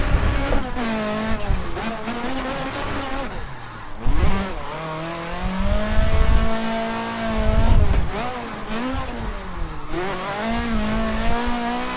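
A drift car in Assetto Corsa slides through a long handbrake pull, its engine wailing and revving up and down in loud, sweeping pitch swings with tire noise underneath and brief dips between pulls.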